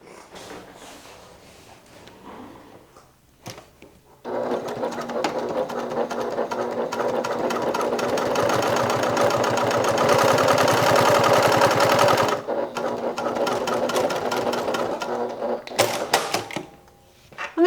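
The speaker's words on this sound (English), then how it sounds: "we're going to stitch using a 1/4 inch seam allowance from the raw" A sewing machine runs a quarter-inch seam along the raw edge of a crossbody bag, starting after a few quiet moments and then whirring loud and steady for about eight seconds before slowing and stopping, with no talking.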